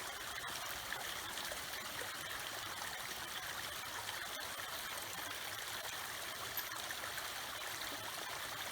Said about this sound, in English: I'll let you guys just listen to the water.